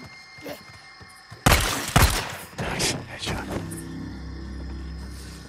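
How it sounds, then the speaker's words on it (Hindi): Gunfire in the video game Days Gone, with a couple of loud, close shots and sharp impacts that ring out and fade over a low, steady rumble. "दो गोलियां तुमने और जाया करवा दी हैं"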